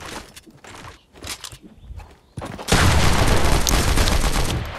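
Fortnite shotgun gunfire during a match, with a few sharp shots and footsteps at first, then a loud, dense burst of sustained firing and explosions that fills the rest.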